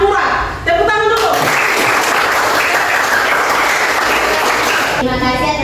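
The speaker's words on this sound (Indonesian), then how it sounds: "Tepuk tangan dulu" Students in a classroom break into loud, dense clapping that runs steadily for several seconds, with a voice speaking briefly at the start and again as it ends.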